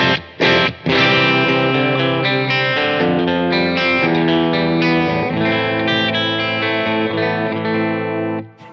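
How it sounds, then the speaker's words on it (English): Electric guitar played dry with no chorus pedal, a strummed and picked passage of sustained chords and notes, loud and close, ringing alone without talk and fading at the end. "This is the guitar on its own."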